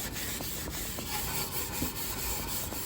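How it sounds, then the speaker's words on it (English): A flat-top plancha griddle is scrubbed in a steady, continuous back-and-forth, a close, loud gritty rubbing and scraping with no talking. "We're going to continue to scrub."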